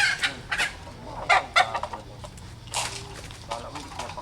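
Pet chickens cluck and squawk in short bursts while being fed on a small farm, close by, with low background hum and brief talk.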